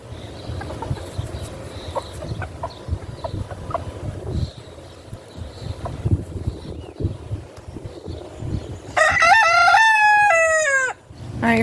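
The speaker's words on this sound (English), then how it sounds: "They're such happy little chickens." Chickens cluck and mutter softly in the background for several seconds, then a rooster crows loudly and close by near the end.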